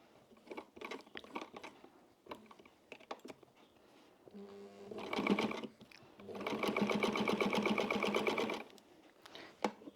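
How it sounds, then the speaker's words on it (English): A 70-year-old Pfaff sewing machine stitching a leather wallet runs in a short burst, pauses, then runs steadily for a few seconds. Quiet clicks and handling taps come before and after. "I'm going to turn around and come back down, so I'm stitching"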